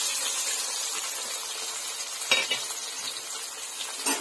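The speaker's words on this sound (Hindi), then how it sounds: "इसको मैं अच्छे से फ्राई कर लूंगी प्याज को" Chopped onion and red chili sizzle loudly in hot oil with cumin seeds, a continuous close frying hiss broken by a few scraping stirs, with no voices.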